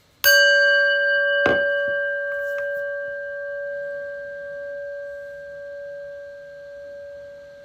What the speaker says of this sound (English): We're going to listen to the prayer bell here